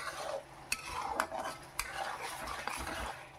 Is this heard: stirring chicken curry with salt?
yes